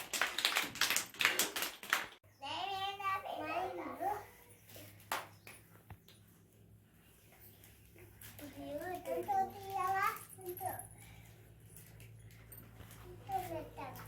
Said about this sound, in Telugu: క్లాప్స్ కొట్టాను అందరు.